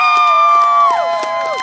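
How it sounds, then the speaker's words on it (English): A crowd at an outdoor Stop W.A.R. rally cheers for a speaker, with loud sustained whooping and shouted voices over scattered clapping, close and energetic. "Give her a round of applause."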